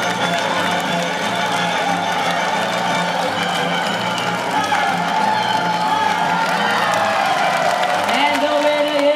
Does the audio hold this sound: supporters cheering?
yes